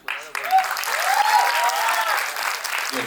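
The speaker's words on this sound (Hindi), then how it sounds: "इस कॉलेज के लिए सबसे ज्यादा तालियां।" Loud crowd applause and cheering break out for the college at a Mumbai comedy event, a brief burst of many clapping hands with whoops and shouts rising over the noise.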